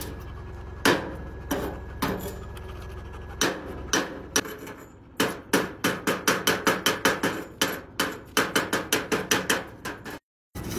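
Sharp metal taps chipping slag off a fresh MIG weld bead made with an Arc Captain MIG130 welder, a few spaced knocks building into a quick, steady run of close hammer strikes, no talking.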